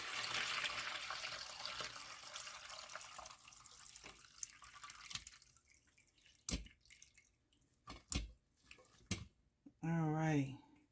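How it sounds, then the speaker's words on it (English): Warm homemade vegetable broth strained through a strainer into a bowl: a steady liquid rush at first, thinning into scattered splashes and drips, with a voice speaking briefly at the end. "I've got me a nice bowl here. My strainer right here. I'm just going to strain these juices."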